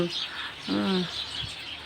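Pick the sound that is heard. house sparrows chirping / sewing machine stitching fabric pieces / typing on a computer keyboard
house sparrows chirping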